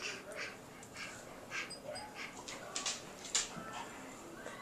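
A young child imitates a dog with a series of faint, breathy yips and whimpering barks, spaced irregularly over several seconds at low volume.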